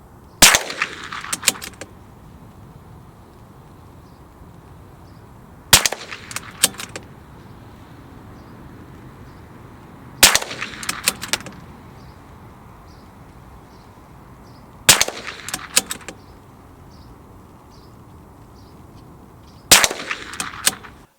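A CZ 457 MDT rimfire rifle fitted with a moderator fires five suppressed shots, evenly spaced about five seconds apart. Each sharp crack is followed by brief bolt and brass clatter against quiet outdoor background hiss.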